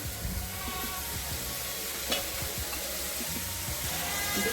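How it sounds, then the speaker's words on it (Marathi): Sliced onion fries in hot oil in a pan for biryani, a steady sizzle with faint stirring scrapes and a few small clatters, moderately close and without talk. "आता हा आपण कांदा लाल होईपर्यंत भाजणार आहे."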